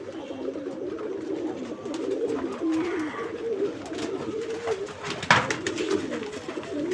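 Pigeons being fed in a village setting coo in soft, repeated throaty phrases close by, with a sharp click partway through.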